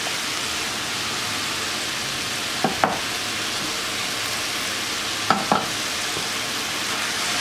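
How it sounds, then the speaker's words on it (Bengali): Spiced food with white pepper fries in a pan with a steady, loud sizzle, broken by a few sharp utensil knocks and scrapes as it is mixed. "তারপরে এটাকে আবারও ভালোভাবে মিশিয়ে নিচ্ছি।"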